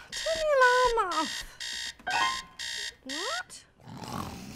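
An alarm clock in a comedy cartoon's bedroom rings in repeated loud beeping bursts with short gaps. A dog-like voice moans and yelps alongside the first bursts.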